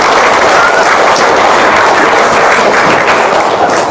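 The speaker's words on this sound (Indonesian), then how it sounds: "Tepuk tangan dong" Audience applause at an Islamic gathering, a loud, dense, continuous wash of clapping that holds steady for the full few seconds without pause or voices.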